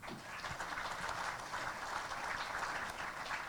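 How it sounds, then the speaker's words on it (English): Audience applause at a 2020 State of the City chamber event, a steady wash of clapping from a crowded room heard at moderate distance without voices over it. "Give him a round of applause."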